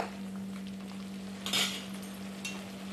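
Chopped onion sautéing in oil in a pan for a spicy Maharashtrian prawn curry, a soft steady sizzle with a couple of brief stirring scrapes partway through, fairly quiet under a constant low hum.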